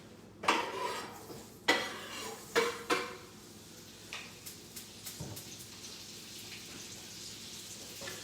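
Egg sandwich ingredients go into a skillet with several sharp metallic clatters of pans and utensils, then softer clinks and a faint sizzle fade into a low, steady kitchen background.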